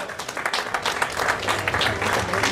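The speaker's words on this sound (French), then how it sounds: "Un tonnerre d'applaudissements." Applause from an audience greeting members of the Besançon cycling club, a steady wash of clapping with voices mixed in throughout.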